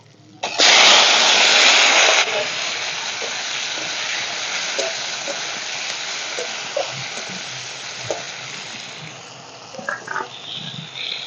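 Chopped onion and tomato hit hot oil for a Bengali boal fish masala curry, erupting in a loud, bright sizzle that settles after a couple of seconds into a steady frying hiss, with occasional clinks of a stirring spoon.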